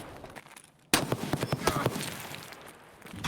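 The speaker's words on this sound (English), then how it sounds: "That is a grenade." In the video game Escape from Tarkov, a grenade explosion bursts in suddenly after a quiet moment, followed by a string of sharp crackling pops that fade out gradually.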